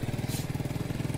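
Motorcycle engine in Minecraft, a rapid steady pulsing putter at close range, loud and even with no speech over it.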